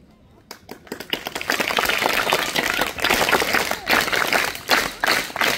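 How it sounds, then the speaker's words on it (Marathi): Students at a school assembly clapping enthusiastically for a visiting Air Marshal, a loud, dense burst of applause that swells quickly and continues steadily with uneven rhythm. "ज्या उत्साहात टाळ्या वाजवताय"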